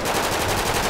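Rapid automatic gunfire in a GTA 5 roleplay shootout, a dense, continuous burst of shots filling the whole moment with no voices over it.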